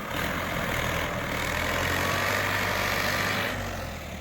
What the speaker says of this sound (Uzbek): Traktor ham qiynalyapti.